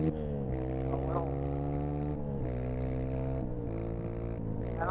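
Malibu motorboat engine passing nearby, a strong droning engine tone with steady harmonics that shifts in pitch as it goes by, loud and continuous.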